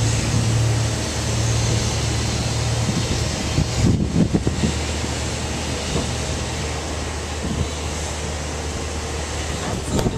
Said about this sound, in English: you'll not be able to hear me because of the wind blowing